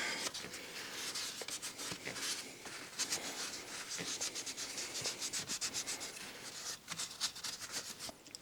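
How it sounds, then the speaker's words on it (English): Close, steady rubbing and wiping of a rag inside the engine case of an old Yamaha Warrior 350 ATV, clearing out old oil in continuous scrubbing strokes with short pauses, no talking. "Wipe out the rest of this old oil in here."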